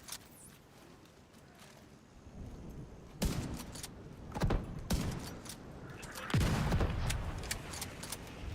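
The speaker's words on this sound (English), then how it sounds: "Mortar spam." Mortar rounds spammed in The Division 2 land as repeated heavy thuds and blasts, several irregular bursts rising out of low rumbling background noise over several seconds.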